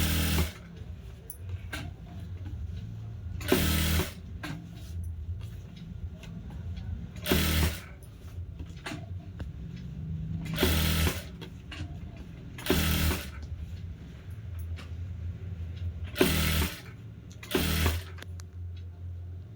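A sewing machine stitches a lined blouse in steady whirring runs, with loud bursts as the machine speeds up at regular intervals between quieter mechanical clatter, close up.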